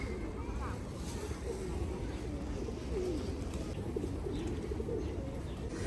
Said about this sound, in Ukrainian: Тут завжди сидять голуби. Тут вони завжди ходять.